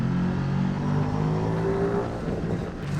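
A Ducati Streetfighter V2 motorcycle engine revs out on a countryside road in the Dales, a steady rising drone heard alone at moderate loudness that eases slightly near the end.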